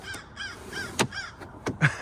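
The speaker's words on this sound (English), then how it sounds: "That crow agrees." A crow caws several times in quick, uneven succession, fairly close and clear, with a few sharp clicks and knocks between the calls outdoors.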